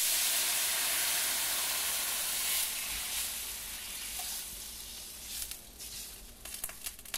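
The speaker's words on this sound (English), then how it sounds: "So I'm going to heat up the stock. I'm going to do it in this pan," Beef stock heating in a pan with browned fond, giving a steady close sizzle and steamy hiss that softens slightly midway, with a few faint crackles and stirring scrapes near the end.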